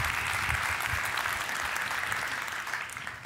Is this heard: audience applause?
yes